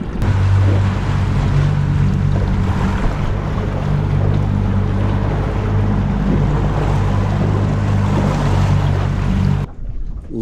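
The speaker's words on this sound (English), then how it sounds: "start the engine" A fishing boat's engine runs steadily, a loud low drone with a tonal hum that holds for almost ten seconds, mixed with wind and water noise, then cuts off abruptly near the end.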